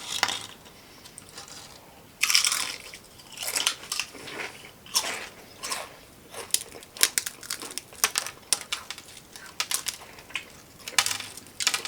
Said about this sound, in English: just showing you guys the crunch though. Very light crunch.